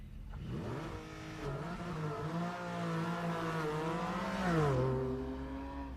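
Mazda Miata race car on an autocross run, engine revving and accelerating with rising and falling pitch through gear changes and turns, a sustained mid-distance drone swelling louder near the end before easing off.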